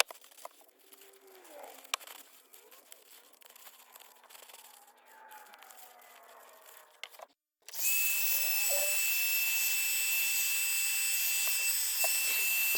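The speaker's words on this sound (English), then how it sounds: "grabbed a heat gun and just sped up the drying process after I've wiped them down to remove any excess" A heat gun drying paint on scrap wood Christmas trees; after quieter handling sounds and brief silence, a loud steady airy roar starts and runs continuously to the end, close up.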